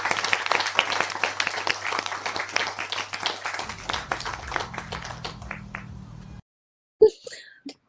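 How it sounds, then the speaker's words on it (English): A burst of recorded applause, a dense crowd of hands clapping steadily for several seconds before cutting off abruptly, followed by a brief quiet voice. "that was a sound effect I put on of clapping"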